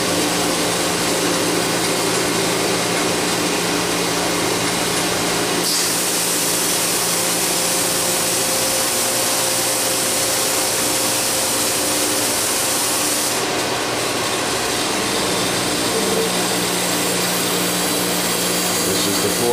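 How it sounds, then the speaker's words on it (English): A Wit-O-Matic 500 grinding machine grinds an insert against its wheel, a steady dense abrasive hiss and whir that swells louder and brighter midway before settling back, with faint machine hum beneath and no talk. "After it grinds the 4th side, it'll go back onto the wheel and swings the radius."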